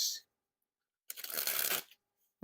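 Thin-stock Rise playing cards being handled and shuffled: a brief riffle at the start, then a quiet gap, then a longer, close, papery riffle burst lasting under a second, alone without talk.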